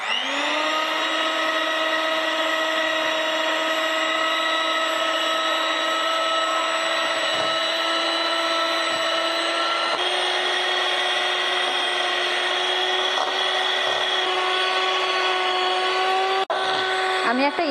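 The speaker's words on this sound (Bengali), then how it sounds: "আমি একটা ইলেকট্রিক বিটারের সাহায্যে 2 মিনিট ধরে ডিম আর তেল আর চিনি গুঁড়োটা আমি খুব ভালো করে 2 মিনিট ধরে ইলেকট্রিক বিটারের সাহায্যে ভালো করে মিশিয়ে নিলাম" An electric beater whirs steadily while mixing eggs, oil and powdered sugar for fruit cake batter, a close, continuous high motor whine that barely changes until a brief dip at the very end.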